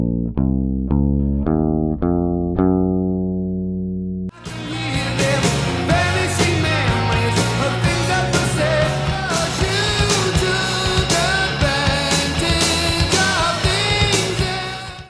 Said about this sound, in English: A Lydian scale is a scale that begins on the 4th degree of the major scale, and it sounds like this.